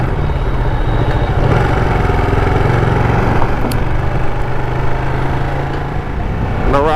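A Ducati Panigale 959 runs at high revs on a rural road, a loud, steady engine drone with wind noise throughout and a brief change in pitch toward the end.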